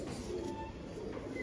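Pigeons of the Punjabi Malwai breed cooing softly and continuously in a loft, a low murmuring coo running throughout, with faint background noise and no clear speech.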